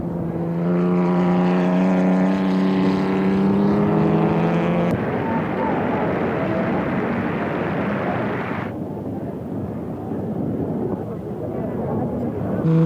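Vintage racing cars of the late 1930s (Altas, MGs, Bugattis and ERAs) race wheel to wheel, their engines roaring continuously. A steady rising drone gives way to a dense, rough blare that holds loud throughout.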